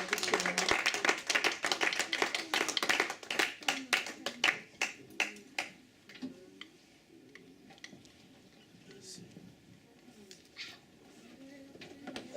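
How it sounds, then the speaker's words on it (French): A church congregation in Rotterdam claps for the Lord in a fast, steady rhythm that is loud at first and then thins and fades, with voices speaking over it. "Laten we voor de Heer applaudisseren."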